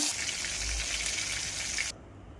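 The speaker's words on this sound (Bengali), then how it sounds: "প্রথমে মাথাটাকে ভালোভাবে ভেজে নেব" A fish head frying in hot oil for a potato ghonto, a loud dense sizzle that runs steadily and then cuts off abruptly, leaving a quiet background.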